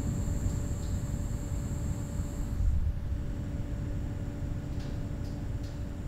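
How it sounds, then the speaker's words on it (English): Soft wind picked up by a very sensitive mic in a quiet setting, a steady low rumble and hiss that swells slightly midway, then settles. "That's just wind that you're hearing."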